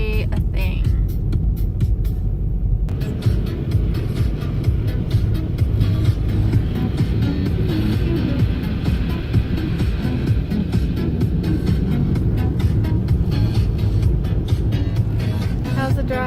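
Steady road rumble and engine noise from a car driving on snowy, icy roads during a winter snowstorm in Portland, Oregon, constant and close throughout, with faint voices at times.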